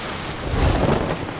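Thunderstorm at sea in a pirate video game: a low rolling thunder rumble swells in the middle over steady broadband rain hiss, loud and close, with no voices.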